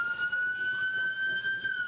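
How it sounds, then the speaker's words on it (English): A police car siren wails continuously in a steady, loud tone with a few harmonics, holding near pitch throughout a tense armed arrest scene. "Turn off your sirens, turn off your sirens."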